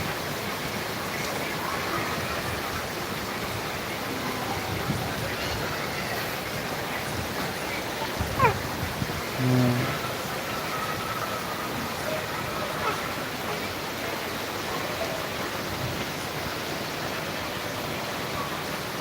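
Heavy rain falling on a road in Kajla, Shanirakhra and Jatrabari in Dhaka makes a steady, dense hiss with no let-up, with a couple of faint brief knocks partway through.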